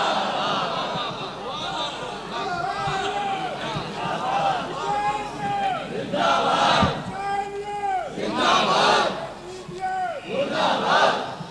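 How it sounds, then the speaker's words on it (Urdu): A large crowd chants religious slogans in loud, repeated bursts at a Jashn-e-Imam Husain gathering. The voices rise and fall together in a regular call-like rhythm. "دیکھیں بزرگ نعرے لگا رہے ہیں"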